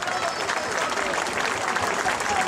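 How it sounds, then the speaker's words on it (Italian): Outdoor audience at a town band concert during the patron saint festival in Manfredonia applauds musician Antonio Beverelli, a steady wash of many hands clapping at full strength throughout the short stretch. "facciamo un applauso ad Antonio Beverelli"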